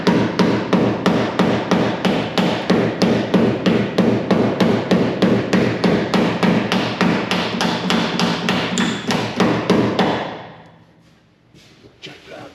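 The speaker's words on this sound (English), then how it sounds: "So I know I gotta hammer out that bottom edge" Rapid, steady hammering on the bottom edge of a 1966 Chevrolet Impala SS steel quarter panel, dozens of sharp strikes in quick rhythm, close and loud for about ten seconds before stopping, leaving faint scattered taps.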